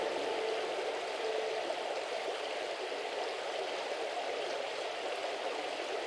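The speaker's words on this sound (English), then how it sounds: "There's a river in front of us." A river in a remote southern mountain area in Africa rushes steadily with a dense, continuous broadband roar of flowing water, close and constant for the whole stretch with no voices.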